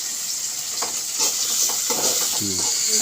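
Tomatoes sizzle steadily in a hot pan with salt, with repeated scraping stirs across the surface in a home kitchen, continuous and fairly loud; a voice briefly surfaces near the end.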